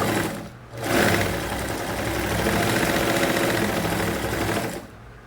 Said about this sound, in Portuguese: nós vamos costurar as laterais pelo lado direito